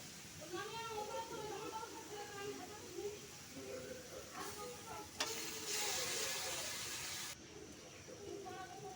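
Spice masala for doi katla frying in oil and being stirred in a pan, a constant close sizzle with scraping strokes, under a voice speaking throughout.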